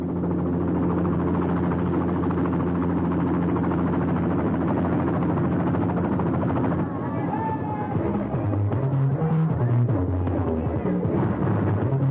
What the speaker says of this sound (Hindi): हेलीकॉप्टर से आप आए?